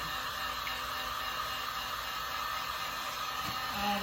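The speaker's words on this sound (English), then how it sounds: "Make sure your heat gun is good and hot." A heat gun blows hot air, used on a vehicle's back window, a steady close whooshing roar running continuously throughout with no talking.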